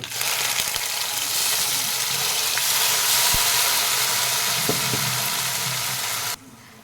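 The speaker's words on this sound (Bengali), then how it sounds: "নারকেলটা সব ঢেলে দিয়েছি।" Ground coconut chutney for dosa hisses in hot tempering, a loud continuous sizzle running nearly seven seconds before cutting off abruptly, with no speech.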